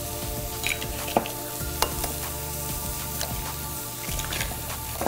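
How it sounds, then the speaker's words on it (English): Eggs crack into a hot pan with ham and fry in a steady, close sizzle, with a few sharp clicks and taps of a utensil stirring through the frying. "crack some eggs in here"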